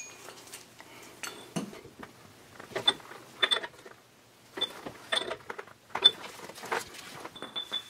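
A wrench tightens a spindle nut on a 14 bolt axle, giving sparse metallic clicks and ratcheting clanks in short bursts with quiet pauses between, close by and without talk.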